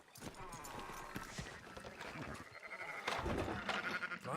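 Sheep in a Fortnite game bleat several times over a busy background of hooves and game sounds, with faint voices in the mix.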